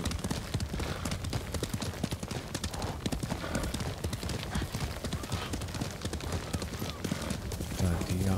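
A horse gallops steadily in Ghost of Tsushima, its rapid rhythmic hoofbeats continuing throughout, with someone talking over the riding.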